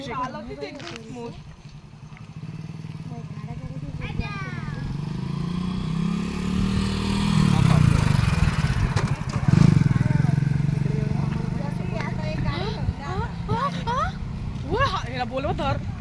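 A motorbike being ridden, its engine droning steadily at close range with a louder surge partway through, while people talk over it throughout.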